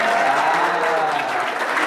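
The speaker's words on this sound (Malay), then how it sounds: "Tepukan untuk Cik Amir." Audience applause at an informal talk session, a steady dense wash of clapping hands filling the whole moment without a break.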